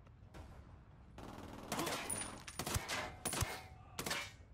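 Gunfire in the video game Ghost Recon Wildlands: several sharp bursts of rifle and machine-gun fire, some single cracks and some short volleys, moderately near with a quiet background.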